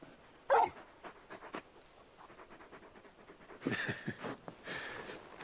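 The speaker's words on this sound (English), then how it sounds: "You're just a big puppy, aren't you? A very big puppy." A big dog in a video game pants and whimpers in soft, breathy bursts, with a sharper yelp early and rougher huffs later, fairly quiet and close, with no talk over it.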